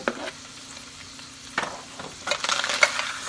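Celery, onion and hamburger meat sautéing in a pan for chili, a steady close sizzle with scraping stirs that pick up toward the end, and no talking.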